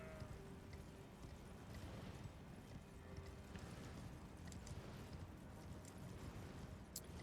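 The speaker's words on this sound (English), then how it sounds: "Riding my horse through the winter wonderland." Horse hooves during riding in the video game Elden Ring, a quiet, continuous run of rapid clip-clop footfalls over a soft, wintry ambient bed, heard without talk.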